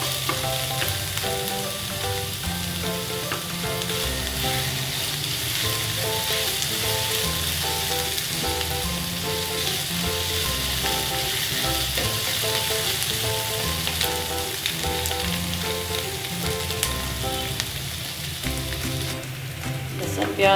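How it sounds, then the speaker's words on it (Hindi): Steady, loud sizzling of garlic and onion frying in a hot pan for stuffed eggplant, continuous throughout, with faint music in the background. "लहसुन प्याज मेरा फ्राई हो चुका है।"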